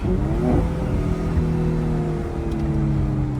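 A Mercedes-AMG C43 engine revs and accelerates loudly from second through fourth gear using paddle shifters, a steady throaty roar with rising pitch, heard from inside the car.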